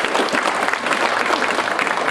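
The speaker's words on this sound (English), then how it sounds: "please let's give our parents and friends and family a round of applause" Audience applause at an Upward Bound award ceremony for the students' parents, friends and family: steady, dense clapping from a large crowd that holds an even level throughout.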